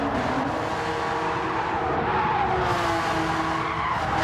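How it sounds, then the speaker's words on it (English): A Porsche GT4 race car in a racing game at Blue Moon Bay Speedway scrapes along a wall, a sustained skidding tire squeal over steady engine roar, loud and continuous throughout. "Nick Pfaff hitting the wall a bit"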